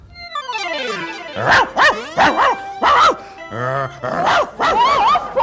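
A person imitates a dog, letting out a string of barks, yips and whimpering sounds in rapid, uneven bursts, loud and close.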